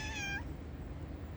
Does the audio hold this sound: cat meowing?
yes